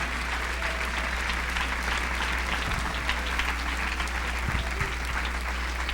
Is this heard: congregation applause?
yes